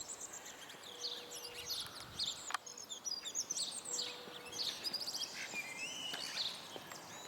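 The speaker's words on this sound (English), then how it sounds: "it's just flown off now, and a blackbird has taken its position." A blackbird sings outdoors in the Italian town of Gradisca d'Isonzo, its clear, fluid phrases repeating from moderate distance over a quiet background with faint insect chirring and other small bird calls.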